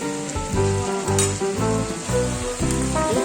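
Shashlik meat sizzles and fries steadily in a pan on a home stove, with a dense crackling hiss and a constant background hum.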